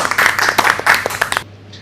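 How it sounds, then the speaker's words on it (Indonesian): A small audience at a youth panel discussion gives a short, close burst of clapping with individual hand claps audible. It stops abruptly after about a second and a half. "Oke, tepuk tangan dulu dong."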